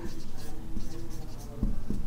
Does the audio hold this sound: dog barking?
no